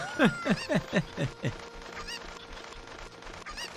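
Cucco chickens clucking in the video game Ocarina of Time: a quick run of five or six squawking clucks up front, then softer, sparser calls trailing off over a faint background.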